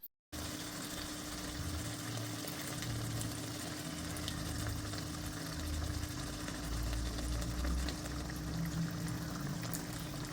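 Water from a pressure cooker pours steadily into a pan of liver for several seconds, a continuous splashing stream over a low hum.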